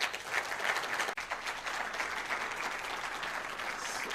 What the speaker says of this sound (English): I expect a very big round of applause.